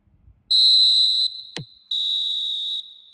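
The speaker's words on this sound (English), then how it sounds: "And the half-time whistle goes." A referee blows the half-time whistle in the eFootball 2026 video game: two long, shrill, bright blasts separated by a short gap, clear and loud with no talk over them.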